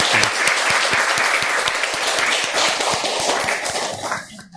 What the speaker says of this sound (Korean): 여러분들 감사하신다면 이 시간 한번 하나님께 영광의 박수 한번 올려드릴까요?